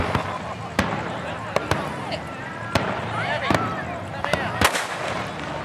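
Sharp firecracker bangs pop off at irregular intervals in the evening in Darwin during a fireworks display, some near and some farther away, over a steady crackling background with faint voices.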